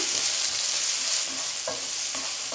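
Loud, continuous sizzling of vegetables and green peas sautéing in oil over medium heat, with a couple of scraping stirs of a spoon in the pan.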